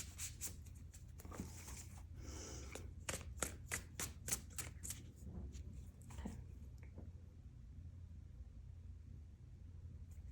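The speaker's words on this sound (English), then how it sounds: "They're asking me to do a hard shuffle on these." A vigorous tarot card shuffle, quick bursts of sharp papery snaps and riffles for several seconds, then it settles into quiet; no voices.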